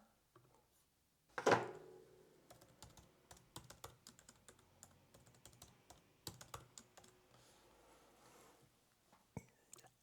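Someone types on a computer keyboard, a close run of quick, soft key clicks with a louder thump at the start and a brief pause midway.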